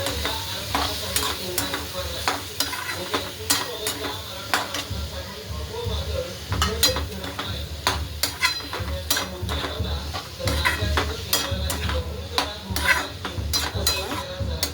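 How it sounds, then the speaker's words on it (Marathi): Cluster beans (guar) frying in an oiled pan on a lowered flame, with continuous sizzling and frequent metal spatula clinks and scrapes as they are stirred, close and fairly loud with no voices. "आता आपण गवार टाकून घेऊया"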